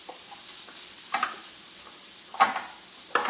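Sliced cucumbers and onions for a cucumber salad being tossed together in a small 3-cup prep bowl, giving a few soft, brief rustling clatters spaced apart over near silence.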